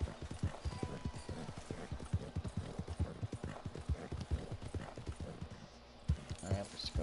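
Horse hooves gallop in a steady, rapid clip-clop rhythm in the video game Red Dead Online, close and prominent, with a brief whinny and someone talking over the hoofbeats.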